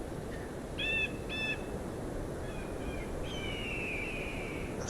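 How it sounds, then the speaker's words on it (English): An eagle calls in the video game Enshrouded, with a few short clear whistled cries followed by a longer drawn-out one. The calls are fairly faint and float above a steady wind-like hiss. "That's an eagle."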